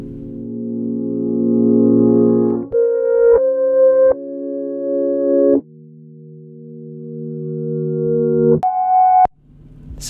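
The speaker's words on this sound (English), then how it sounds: "is a reversed file." A reversed audio sample playing in Logic with no plugins: sustained synthetic tones that swell and then cut off abruptly, stepping through several pitch changes over about ten seconds, loud and alone.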